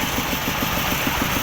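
A Mani 25 hp tractor engine idling, a steady low rhythmic chug with even pulses, close by and without talk.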